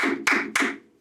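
Three sharp hand claps at an even pace, close and crisp, with a brief ring of a voice-like tone underneath fading out after the last clap.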